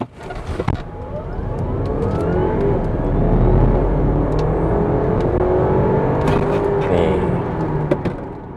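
Audi Q5 Sportback 55 TFSI e Quattro S Line Black Edition plug-in hybrid launching flat out to 100 km/h in Dynamic Mode, its loud engine and electric whine climbing steadily through rising gears for several seconds, heard from inside the cabin.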